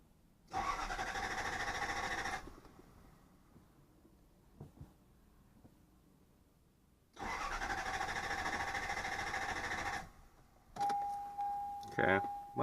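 Toyota TE72 car engine cranking without catching: two loud bursts of starter whirring, each about two seconds, separated by quiet, then shorter stuttering cranks and a thin electronic tone near the end.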